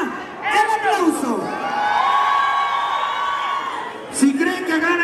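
Studio audience at a Mexican kissing-game show erupts in loud, sustained cheering and whooping, with excited crowd shouts rising over a steady roar and brief voices at the edges.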